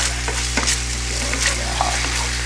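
Butter being stirred into a hot sauce in a pan, with soft scraping strokes over a steady sizzle and hum, close and continuous with no talking.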